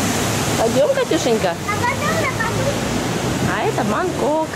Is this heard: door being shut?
no